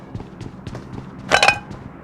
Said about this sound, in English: Another gun. This gun is very big.